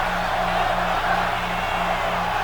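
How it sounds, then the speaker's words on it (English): Arena crowd in the WWE 2K26 wrestling game roaring in a steady, dense wash of noise, with a low repeating chant pulsing underneath, continuous and fairly loud throughout. "the crowd bloodthirsty, chanting one more time"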